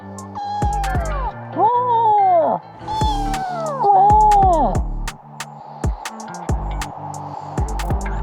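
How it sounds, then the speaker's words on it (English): A cat on its first outdoor walk meows loudly and close by, several long drawn-out cries with falling pitch, followed by shorter chirps and rustling movement. "Rebel cat."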